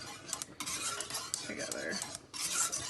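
Whisk scraping and clinking around a metal pot of thickening cheese sauce for baked mac and cheese, a run of quick, uneven close-up strokes with short pauses and no talk.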